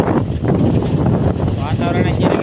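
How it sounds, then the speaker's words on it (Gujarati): Strong wind gusts across an open farm field, buffeting the microphone with a loud, continuous roar that swells and dips slightly, with faint voices underneath. "પવન એટલો જોરથી આવે ને, આવો પવન તો એસીનોય ન આવે, પંખાનોય ન આવે એવો પવન આવે છે"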